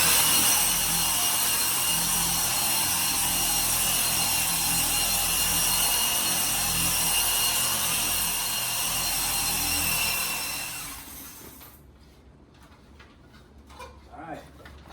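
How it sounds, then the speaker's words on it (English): A power buffer polishes an oxidized RV finish with Meguiar's One Step, running as a loud, steady whine for about ten seconds before winding down to quiet, with some talk in the background. "I'm going to keep on buffing it until that clears up."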